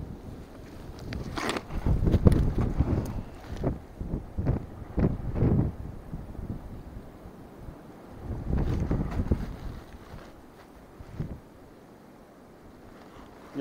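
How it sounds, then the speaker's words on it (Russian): Strong wind buffets the microphone outdoors in loud, rumbling gusts that rise and fade in surges, easing off into quieter stretches between blasts. "Я думаю, вы слышите, да, сильный ветер."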